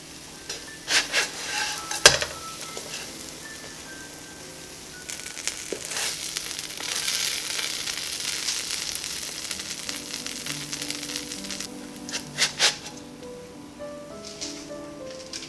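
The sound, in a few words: grilled cheese sandwich toasting in a pan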